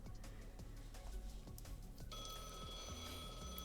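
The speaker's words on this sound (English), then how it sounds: "A phone call? Now?" A telephone rings in the Blue Archive video game, starting about halfway through as a steady electronic tone over game music and sound effects.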